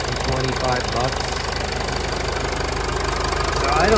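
A 2014 Mercedes-Benz GLK250 BlueTec diesel engine idles with a steady, close, loud clatter and even rhythmic knock that holds throughout.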